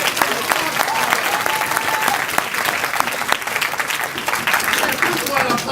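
At a NAMI Georgia annual conference in 2017, an audience claps steadily and loudly throughout, with a voice speaking over the applause.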